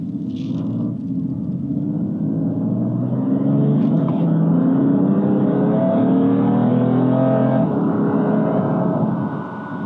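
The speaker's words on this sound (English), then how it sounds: "Okay, folks, pulling out on the road here. We're going to get on the gas just a little bit." A 2018 BMW M3 pulls out onto the road and accelerates, its engine note rising steadily in a loud, continuous drone that holds for about ten seconds, heard from inside the car.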